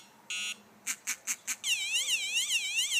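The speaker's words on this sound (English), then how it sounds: "the alarm is going off on my pager, but not the truck" A Viper 5704 car alarm pager remote sounds off: one short buzz, then four separate chirps, then a rapid warbling electronic siren pattern, faint and close with no talk.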